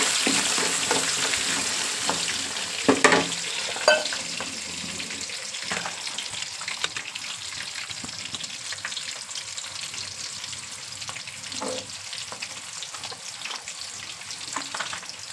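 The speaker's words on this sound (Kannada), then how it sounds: "ಬನ್ನಿ ಒಗ್ಗರಣೆ. ಆಲ್ರೆಡಿ ಕಡಲೆಬೇಳೆನ ಹಾಕಿರೋದು." Chana dal and spices fry in hot oil for tempering, giving a steady crackling sizzle with occasional sharper pops and the clatter of stirring against the pan.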